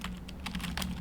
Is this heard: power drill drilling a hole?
no